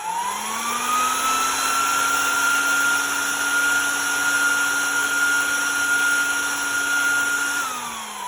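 A 3D printed hand dryer with LiDAR sensing runs its fan motor in a steady, loud whine with a constant high tone, holding evenly for several seconds before winding down at the end.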